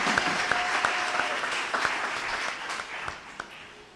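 A church congregation bursts into applause to acclaim Jesus, a dense, close round of clapping with a few sharp individual claps standing out, slowly tapering off.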